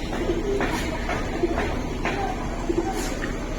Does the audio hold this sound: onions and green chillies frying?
no